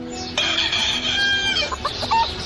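Chickens clucking together with a rooster crowing, a loud close-up farmyard burst of layered calls with no voices.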